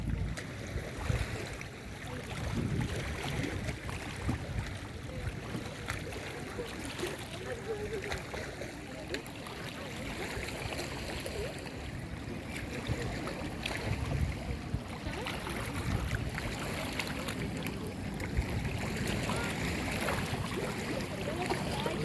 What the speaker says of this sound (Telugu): మనకు బోటు ఎంత దగ్గరలో నుంచి వెళ్తుంది